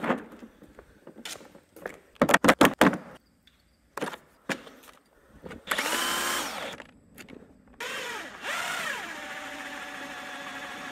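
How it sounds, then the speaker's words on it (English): An impact wrench drives a bearing puller on old farm equipment in a heated shop, firing in a few short, sharp rattling bursts before longer whirring runs that rise and settle, with pauses between. "So what you do is you put the impact on it, or you can put a socket or a wrench or whatever."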